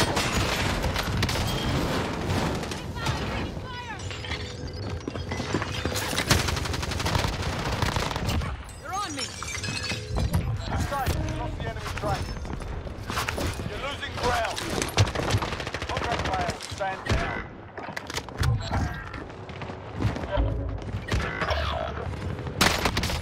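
Rapid gunfire from a JAK12 in Warzone on Rebirth Island comes as bursts of loud, close shots with booms, repeating through the round. Excited players talk over the shooting.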